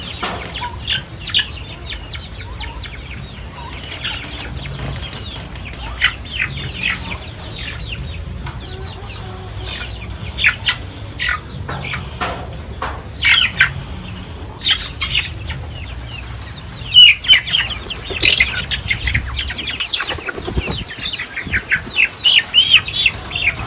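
Month-old chicks cluck and chirp in a new outdoor ranging area, a busy flock of overlapping peeps and short calls from start to finish, with occasional wing flutters and no voices.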